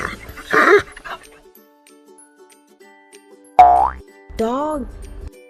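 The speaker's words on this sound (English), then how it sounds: "Dog. This is a dog. Dog says woof, woof." A dog gives a few short, loud barks and yips, split by quiet gaps, alongside springy boing-like effects in a children's farm animal sound lesson.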